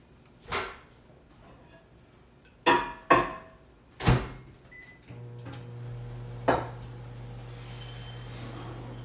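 Kitchen utensils and cupboard contents clatter and knock as someone rummages for a spatula, with several separate sharp bangs and rattles, then a steady low hum runs underneath a later clunk.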